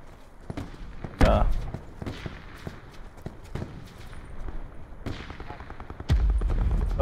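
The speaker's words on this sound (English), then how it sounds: "Somebody else is shooting at them." Gunfire in Call of Duty Black Ops 4 Blackout: scattered sharp shots through a noisy match, with a louder burst near the start and a heavy blast near the end, while players talk over it.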